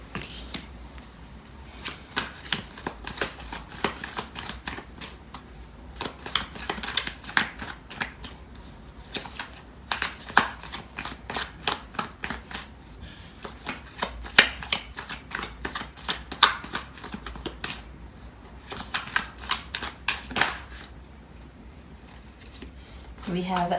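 Tarot cards being shuffled in rapid riffling bursts, a dense crackle of card flicks repeating close up with brief pauses, no speech over it.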